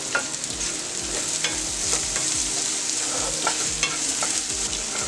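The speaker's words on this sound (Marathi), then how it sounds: "फुल गॅसवरती चांगलं परतून घेऊया।" Lentils are stir-fried in a pan over a full flame for vermicelli upma. A spatula scrapes and taps in a repeating rhythm over a steady soft sizzle, close up and with no voices.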